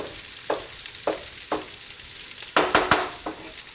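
Kielbasa and onions in a stir-fry pan, a close sizzle broken by several rhythmic scraping strokes of a utensil pushing the food aside, louder toward the end, no speech.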